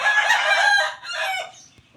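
A young Burmese fighting rooster crows once, loud and close, a drawn-out strident call that trails off near the end.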